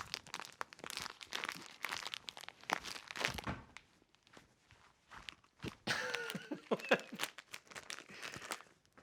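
A plastic bag of coconut crinkles and tears open in short bursts, close and fairly quiet, with a louder crackling rip near the end.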